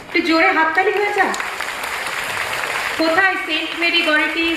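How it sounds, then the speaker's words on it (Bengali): An audience claps at a school cultural event. A burst of applause lasting a couple of seconds fills the gap between stretches of someone speaking loudly over it. "জোরে হাততালি হয়ে যা।"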